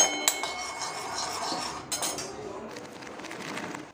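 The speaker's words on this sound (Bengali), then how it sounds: "দিয়ে দিচ্ছি 1 টেবিল চামচ মতো ঘি" A tablespoon of ghee is spooned into a pan, heard as a few light metallic clinks and scrapes of the spoon against the pan, fairly quiet and close.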